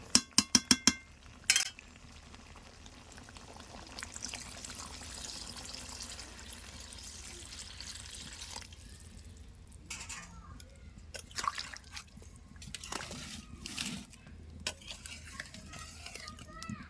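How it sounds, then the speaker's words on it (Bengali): Water poured and stirred into a pot of Bengali chicken curry with potatoes, starting with a few sharp clinks of utensil on pot, then soft sloshing, scraping and drips, faint and close. "তো জলটা দেওয়া হয়ে গেল"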